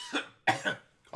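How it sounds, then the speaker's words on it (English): A person coughs twice in quick succession, dry and close, followed by the start of a third cough. "coughing."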